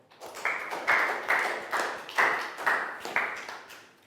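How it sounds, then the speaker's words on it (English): A classroom round of applause for a pupil comes as a rhythmic patterned clap, evenly spaced bursts repeating about twice per second, fairly quiet and close. "big round of applause for Pangpon."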